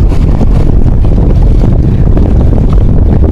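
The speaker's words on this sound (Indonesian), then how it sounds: "Ombak sudah tinggi guys." Strong wind and high waves at sea batter a fishing kayak near a jetty at Teluk Batik, Lumut, a loud, continuous rushing roar with heavy low buffeting and no talk.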